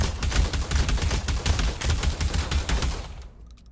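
A toy Nerf shotgun shooting foam darts: a fast run of sharp clacking pops in quick rhythm that stops suddenly near the end.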